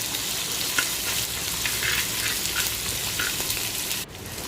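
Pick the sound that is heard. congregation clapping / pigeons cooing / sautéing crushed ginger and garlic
sautéing crushed ginger and garlic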